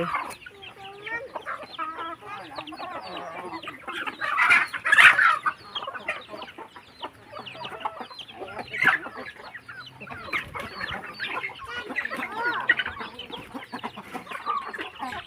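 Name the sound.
chickens clucking on a rural farm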